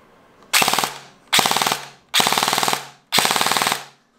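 Electric gel ball blaster toy gun, a Little Moon ARP9 Gelshoft, fires four loud, close bursts of rapid full-auto shots, each about half a second long and separated by brief pauses.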